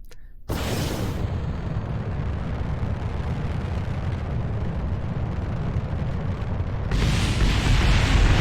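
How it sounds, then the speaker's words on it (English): A rocket blows up in the Kerbal Space Program video game: a sudden loud, broad blast that keeps roaring and rumbling for several seconds, then swells again into a harsher, brighter burst near the end, with no talking. "Yep, that was a big explosion."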